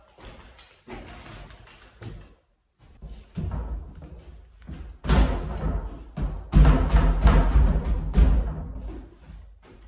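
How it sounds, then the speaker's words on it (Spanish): A wooden door is fitted into its frame, with a run of knocks, thumps and scraping bumps that grow louder and denser toward the end, without talk. "vamos a poner la puerta."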